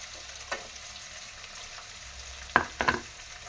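Onions frying with urad dal in a newly bought pan, a quiet continuous sizzle with a few sharp stirring scrapes and knocks, one early and a cluster near the end.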